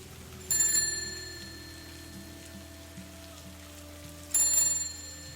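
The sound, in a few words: ringing bells sound effect in a horror story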